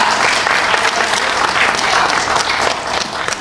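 At a political party speech, a large crowd breaks into loud, continuous applause. The close, dense clapping stays steady for several seconds, with faint cheering underneath.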